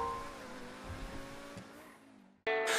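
A car in a GTA roleplay game revs and accelerates hard, its engine note holding steady and loud before a brief cutoff, followed by a burst of louder sound at the end.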